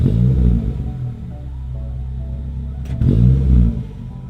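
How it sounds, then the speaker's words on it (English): A Polaris Slingshot with a ceramic coated, sport tuned dual rear exit exhaust gives a low rumbling growl, swelling near the start, settling to a steady idle, then rising again in a second louder rev. "this system produces a low, beefy growl that sounds tight and tuned throughout the entire RPM range"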